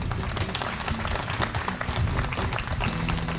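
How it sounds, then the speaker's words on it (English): Crowd applauding city employees at an outdoor Open Streets community event, a dense, steady wash of clapping hands at close range lasting throughout with no break. "Let's give those city employees a round of applause."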